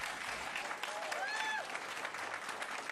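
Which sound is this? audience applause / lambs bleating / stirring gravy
audience applause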